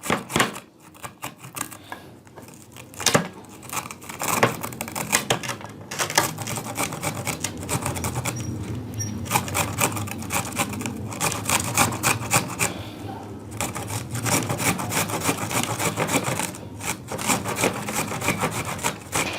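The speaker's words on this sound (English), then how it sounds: "We need onion juice. So first of all, we are grating it." An onion is grated steadily on a grater, giving a continuous rapid scraping and rasping rhythm that is close and fairly loud throughout.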